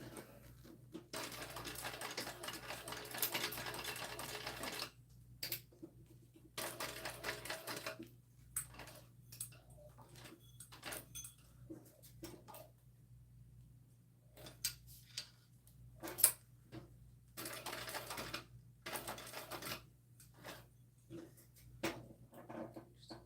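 A sewing machine top stitches a tab on a pack in faint, rapid runs of mechanical clatter. The runs start and stop with quiet gaps between them.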